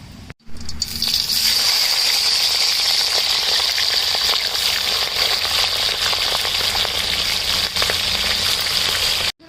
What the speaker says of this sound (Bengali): এই তেলে আমি চিংড়ি মাছগুলোকে ভেজে নেব